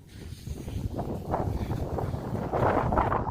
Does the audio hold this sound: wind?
yes